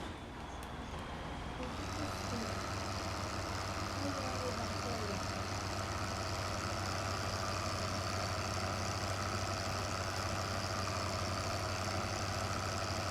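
A big truck engine idles in Farming Simulator 15, a steady low rumbling drone that holds at an even loudness throughout, with no voices over it.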